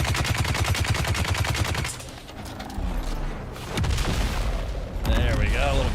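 Rapid bursts of gunfire and grenade explosions in the video game Dune: Awakening, with a dense regular volley of shots giving way to heavier booming blasts, loud and close.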